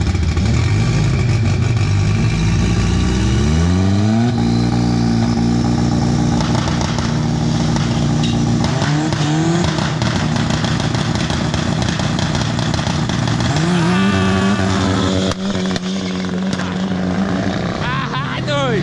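A drag racing car roars off the start line, its engine revving loud and rising in pitch through repeated gear pulls, with voices talking over the roar.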